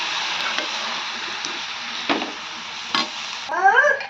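Village-style mixed greens palya frying and being stirred in a pan, a soft sizzle under a few scraping stirs, ending with a brief clatter of utensil against the pan.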